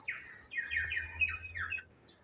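A pigeon held in the hand gives a few soft chirps and squawks in short bursts, close and fairly quiet.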